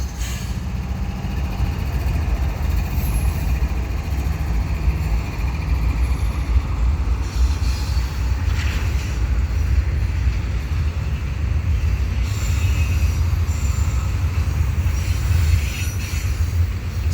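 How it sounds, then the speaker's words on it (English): Steady low rumble of a westbound CSX freight train carrying containers rolling past nearby on CN tracks in Montreal, with continuous wheel and car noise and faint metallic squeals, no voices. "I got the CSX train coming"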